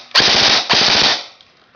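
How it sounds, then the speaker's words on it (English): Two rapid bursts of automatic fire from an Echo 1 XK airsoft rifle, sharp fast popping at a very high rate, loud and close, with a brief gap between them. "I'll give you a short full auto burst so you can hear the rate of fire"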